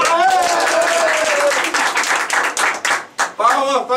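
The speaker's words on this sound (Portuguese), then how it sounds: "Ai, palmas agora." Audience clapping for a guitar duel contestant, rapid dense hand claps filling the space alongside a sustained sung or played tone and cheering voices, loud and continuous before breaking up near the end.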